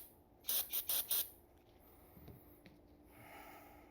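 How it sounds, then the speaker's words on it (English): Carb cleaner sprayed into the carburetor of a 1956 Chevy 3100: four short hissing aerosol bursts in quick succession, close and fairly faint, followed by quiet handling noises. "Let's put a little carb cleaner in here"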